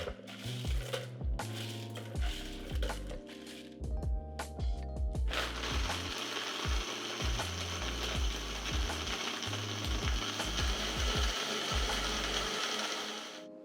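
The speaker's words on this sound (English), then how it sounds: "We're gonna add our ice to the pitcher and then we're gonna blend it up." A blender whirs through ice and margarita mix in a pitcher, chunks rattling and clattering loudly at first before settling into a steady, smoother high whine, close by with no talking.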